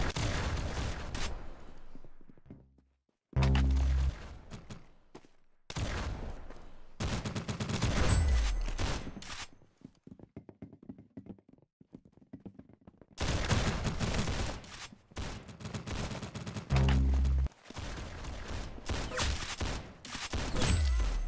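Repeated bursts of gunfire in the Roblox shooter game Arsenal, loud and close, rapid volleys separated by short gaps and a quieter stretch of scattered shots in the middle.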